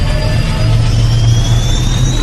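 Aircraft jet turbine engine in a film scene, a loud, steady roaring whine with rising high-pitched tones over a heavy low rumble, continuous and close with no voices.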